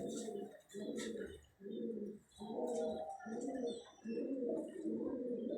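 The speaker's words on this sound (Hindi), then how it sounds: "शानी भाई बहुत माशाल्लाह अच्छे कबूतर रखने वाले हैं और अच्छा कबूतर दिखाते हैं" Pigeons coo repeatedly in steady, rhythmic bursts from a fancier's loft of prized show birds, close and fairly loud, with faint chirps above and no talking.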